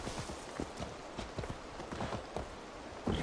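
Steady clip-clop of a horse's hooves walking at an even pace in the video game Assassin's Creed Valhalla, moderately loud over a constant background hiss, with a slightly louder thump near the end.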